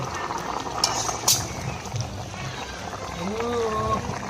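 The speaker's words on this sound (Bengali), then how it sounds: "ঢাকা দিয়ে একটু ফুটে নেব।" Shati fish curry simmers in a covered pot, giving a steady low bubbling and hiss that continues throughout, with a voice speaking briefly near the end.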